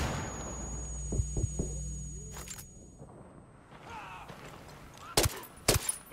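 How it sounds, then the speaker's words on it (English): A flashbang goes off in the video game Ghost Recon Wildlands. Several sharp, loud bangs burst out among duller thuds and background rumble. "Throwing a flashbang."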